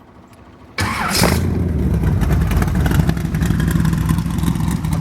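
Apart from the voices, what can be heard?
hot rod V8 engine starting and revving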